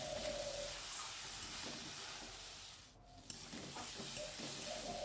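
Spice masala is stir-fried in a kadai for an egg and besan bara curry, giving a steady soft sizzle and scraping hiss throughout, with one brief quieter dip midway and no talking.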